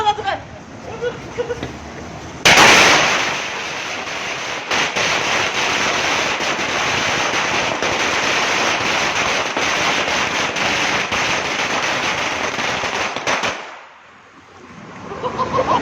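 Dense, loud barrage of firecrackers exploding continuously at a Handan (炸寒單) firecracker ritual in Taiwan, a sharp burst starting the run and crackling without pause for about eleven seconds before briefly dropping off, with crowd noise mixed in.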